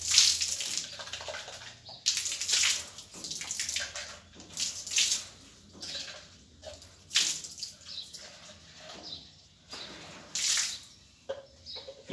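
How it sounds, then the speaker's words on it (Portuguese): Water is poured into a cup that held stone-cleaning product, with splashy, uneven bursts of liquid sound at close range and short pauses in between. "Joga um pouquinho de água no copo que tava ele"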